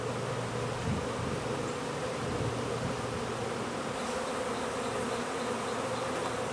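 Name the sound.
honey bee swarm buzzing around hive boxes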